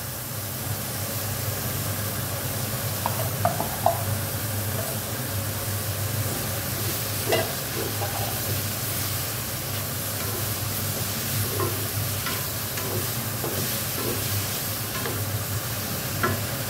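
Sugar being stir-fried in a pan while cooking Thai pork belly with bamboo shoots and basil: a steady close sizzling hiss with light scraping of stirring throughout, no talk.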